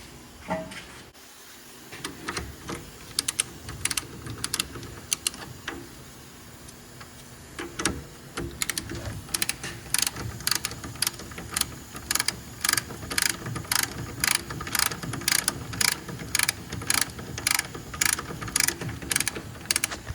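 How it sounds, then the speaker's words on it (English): Ratcheting clicks from a torque wrench tightening a CV axle bolt to 45 foot-pounds on a 2012 Honda Accord 2.4, starting sparse and becoming a steady run of sharp, close, evenly spaced clicks through the second half. "I'm gonna torque this thing at 45 foot-pounds."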